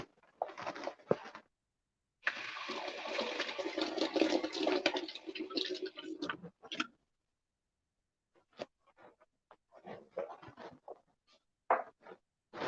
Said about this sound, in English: Let me rinse this out real quick.